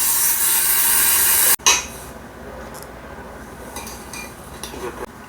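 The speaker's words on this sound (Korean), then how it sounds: "그거를 다 계산을 해서 요만큼을 커팅해도 되겠다 해서 이렇게 커팅 작업을 하는 겁니다" Cutting out an old recessed distribution box enclosure, a harsh grinding rasp that stops suddenly, followed by scattered scraping, clinking and handling of metal and tools, close and moderately loud.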